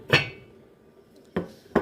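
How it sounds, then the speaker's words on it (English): A metal pot lid clinks onto a pot of cooking meat in a kitchen: one sharp clink, a pause, then two more quick metallic taps near the end, close and clear. "I'll go ahead and cover the meat up"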